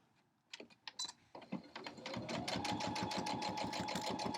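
A sewing machine stitches through fleece, starting with a few hesitant single clicks before settling into a rapid, even run of needle strokes, close and fairly quiet.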